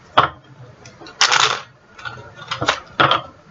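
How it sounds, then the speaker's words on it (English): Tarot cards shuffled close by in a handful of quick riffling bursts, with pauses between them and no talk. "Let me just give these cards a little shuffle here before we start."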